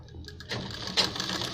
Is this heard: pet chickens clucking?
no